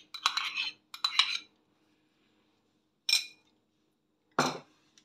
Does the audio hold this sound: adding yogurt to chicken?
yes